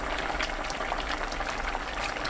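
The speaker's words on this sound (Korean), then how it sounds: "감자가 익을 때까지 끓이면 되는데" Korean chicken stew with potatoes bubbling steadily in a pot, a constant close, even simmering burble with no pauses and no voices.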